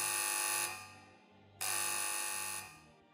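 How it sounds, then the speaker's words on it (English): An electronic buzzer marking the end of a test sounds in two steady, loud tonal bursts, each about a second long, with a short gap between them. "A buzzer sounded, indicating the end of the test."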